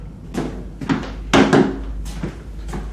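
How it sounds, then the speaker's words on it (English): A door is shut in an old house, giving a few dull thunks and knocks at close range against a steady low background hum, with no talk. "So now we're going to close the door."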